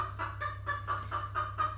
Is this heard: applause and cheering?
no